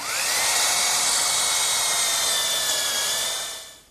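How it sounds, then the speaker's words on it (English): A half-inch brad point bit drills through two stacked pieces of wood, giving a steady, loud, high whine that holds for about four seconds and then winds down, with no talk. "I'm ready to drill the holes using a half-inch brad point bit, and I'll go through both pieces at once."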